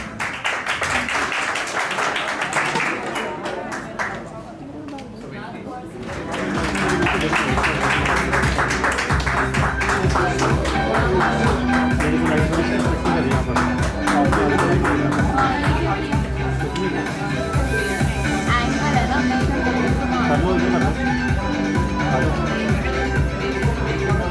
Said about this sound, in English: Please warm clap for him